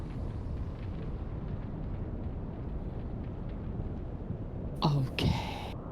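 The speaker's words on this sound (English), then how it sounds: "Flashbang." Flashbang grenade detonating in a video game: a short, sharp burst near the end, rising briefly above a steady wash of background noise.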